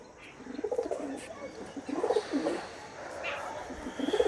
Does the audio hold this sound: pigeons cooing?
yes